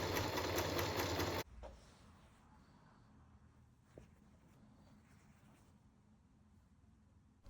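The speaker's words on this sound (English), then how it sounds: "I sew it down with 2 rows of top stitching" A sewing machine runs two rows of top stitching on a traditionally made Switzerland flag. It starts with a loud burst of steady stitching, then falls to a low, quiet hum with faint handling clicks.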